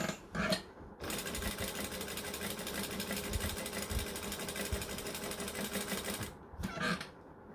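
A sewing machine stitching a denim jacket runs in a fast, continuous mechanical whir for about five seconds, close and clear, with brief handling noises before and after.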